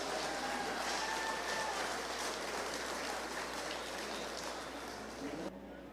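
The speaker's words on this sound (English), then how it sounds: "Give these exhibitors a round of applause" An audience claps for beef showmanship exhibitors at a 2021 livestock show, a dense, even wash of applause that holds steady for several seconds before thinning out at the end.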